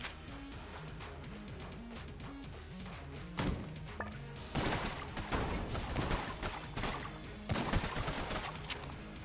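Mermaid gun firing in the Enter the Gungeon video game, a steady run of soft repeated shots over a looping game soundtrack, with a few louder bursts and impacts later on.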